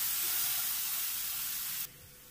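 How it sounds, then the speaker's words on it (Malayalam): Green chillies sautéing in a pan for lemon pickle, a steady bright sizzle and hiss that drops suddenly quieter near the end. "നന്നായി ഒന്ന് വഴറ്റി കൊടുക്കാം."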